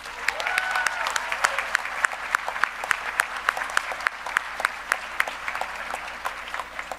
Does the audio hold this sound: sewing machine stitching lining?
no